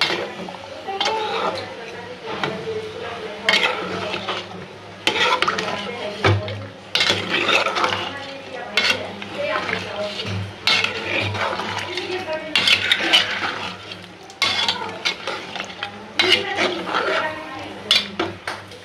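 Beef curry being stirred and browned in a pot, with a utensil steadily scraping and clattering against the metal in busy, irregular strokes that fill the whole stretch at close range.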